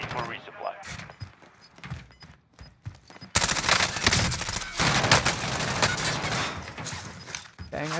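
Gunshots in the video game Call of Duty Warzone: a few scattered shots and clicks give way to sustained, loud bursts of rapid fire, with a voice talking between and over the shooting.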